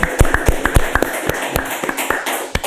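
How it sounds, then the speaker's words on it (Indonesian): Scattered applause for Jemma Coffee at a podcast event, a handful of people clapping in uneven, sharp claps that come close and fairly loud, with no talk over them. "Tepuk tangan untuk Jema Coffee"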